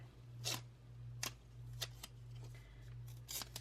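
Scissors snip through a piece of paper for a planner, cutting it in half: several short, crisp cuts spaced about half a second apart, close and fairly quiet over a steady low hum.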